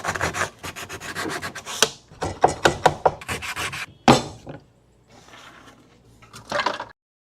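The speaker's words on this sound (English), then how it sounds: "We'll wrap the sandpaper around our pen, same thing. Now we can sand the groove." Sandpaper wrapped around a pen is rubbed back and forth inside a groove cut in a wooden board, making steady rasping strokes that are close and clear, fading to a softer scrape before a final burst.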